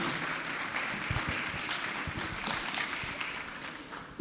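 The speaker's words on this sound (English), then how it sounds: "A round of applause for Temi, please." Audience applause at a TEDx Youth event for a young speaker, a steady dense wash of clapping filling the whole stretch without letting up.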